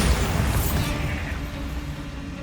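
Bombarda spell explosion in the Hogwarts Legacy video game, a loud, broad, rumbling blast that sustains and slowly fades over a couple of seconds.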